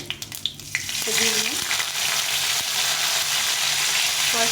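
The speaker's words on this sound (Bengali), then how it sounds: "তেলটা গরম হয়ে আছে এখন শুকনো লঙ্কা সাদা জিরে আর সর্ষে এটা ফোড়ন দিয়ে দেবো" Dry red chillies, white cumin and mustard seeds hit hot oil in a pan, bursting into a loud, steady sizzle that starts after a few light clinks and then holds evenly.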